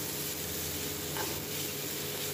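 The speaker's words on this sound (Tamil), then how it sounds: "நமக்கு ஆனியன் நல்லா வதங்கிடுச்சு" Chopped onions sizzle and fry in a pan while being stirred for a noodle dish, making a steady, close hiss throughout with no voices.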